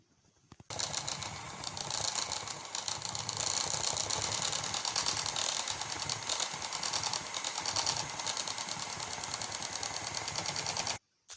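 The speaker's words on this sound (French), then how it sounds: "Nous allons monter notre crème liquide en chantilly" Liquid cream being whipped into chantilly for an orange-vanilla tarte tropézienne, with an electric mixer whirring steadily and loudly for about ten seconds before cutting off abruptly, no talk.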